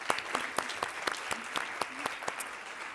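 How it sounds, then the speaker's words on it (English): A conference audience claps for a panel after a discussion at a kick-off event in Brussels. The claps are sparse and irregular, with sharp hand strikes against a soft room hum and no voices. "we join hands to applaud the panel for such an enriching discussion"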